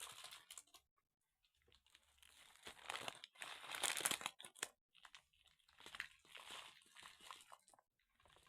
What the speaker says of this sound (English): Hey, stop chewing on the bag.